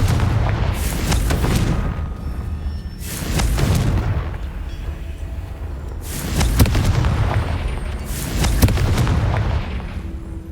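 Confringo spell blasts from the Hogwarts Legacy video game, four booming explosions spaced a few seconds apart, each a loud deep burst with a crackling tail over a constant rumbling game background.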